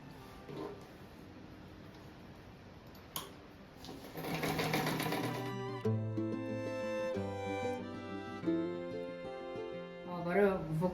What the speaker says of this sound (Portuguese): E agora eu vou costurar esse aqui, ó.